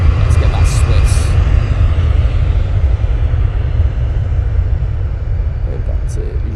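A Swiss airliner jet at Manchester Airport gives a loud, continuous low engine roar and rumble, steady and close, with a brief voice heard over it.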